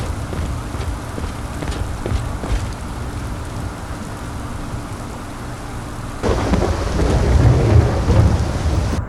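Rain and rolling thunder from the Skyrim video game: a loud steady downpour with deep rumbles that swell into a heavier crash near the end.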